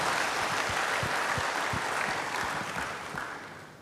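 Congregation applause in a church fills the space with dense, steady clapping that starts loud and fades gradually toward the end, with no talk over it.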